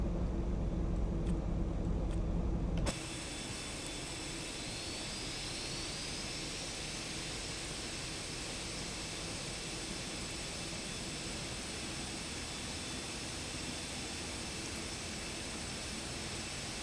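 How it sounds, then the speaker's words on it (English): Boeing 747-8 Freighter engines spooling up in the X-Plane 12 flight simulator, a steady loud jet roar and whine that sets in abruptly and holds for about fourteen seconds, with no speech. "Let's start the other 2 engines."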